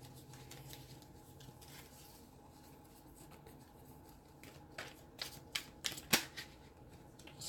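Tarot cards are shuffled by hand at close range: quiet riffling and patting for several seconds, then a short run of sharper snapping cards near the end, with no talk.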